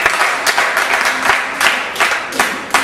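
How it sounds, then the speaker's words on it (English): Audience applause at a humanist organization's debate event on child punishment, a sustained patter of many hands with periodic louder bursts, fairly close and steady throughout. "please clap for yourselves, all of you"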